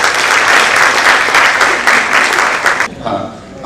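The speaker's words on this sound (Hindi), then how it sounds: "मैं एक बार चाहती हूं दो जोरदार तालियां आप सभी सुरी श्रोताओं के लिए।" Loud, dense applause from the audience at a poetry book launch, close and steady for about three seconds before cutting off abruptly into quieter room noise.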